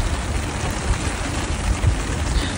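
A steady wash of water patters densely onto the leaves and soil of potted succulents. It hisses without a break and has no voices over it.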